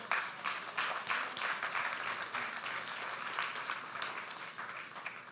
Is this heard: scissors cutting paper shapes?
no